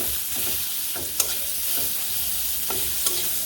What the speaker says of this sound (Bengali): পেঁয়াজটা হালকা হালকা করে ভাজি করে নেই